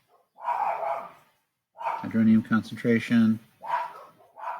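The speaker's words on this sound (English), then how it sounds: "You hear my dog in the background barking at literally nothing." A pet dog barks in a home while a teacher explains pH calculations; several sharp, close barks cluster in the middle, set between stretches of talking.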